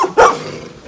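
A single sharp dog bark close by outdoors at a waterfront, one loud burst that fades quickly into background noise.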